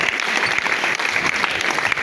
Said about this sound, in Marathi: आपण सर्वजण टाळ्या वाजून त्याचं कौतुक करूया